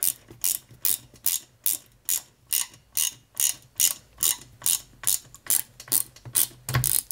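Ratcheting screwdriver tightening a screw on a 1961 Routemaster RM857 bus scale model kit, a steady run of about fifteen evenly spaced sharp clicks, close and alone.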